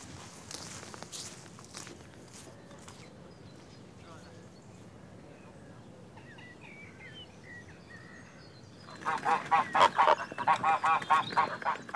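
Several geese on a farm honk loudly and repeatedly in a noisy burst near the end, following quieter shuffling and rustling sounds.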